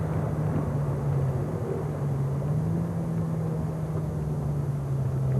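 A Rover 220 Turbo's engine drones steadily under acceleration on the Nürburgring circuit, a loud continuous in-car roar with a sustained pitch that shifts only slightly, and no voices.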